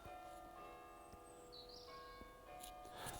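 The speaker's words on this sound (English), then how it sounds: "There's the church bells again, regular as clockwork, because it's a clock." Church clock bells ring from a distance with a sustained, resonant hum and soft strikes, faint and steady against quiet background noise.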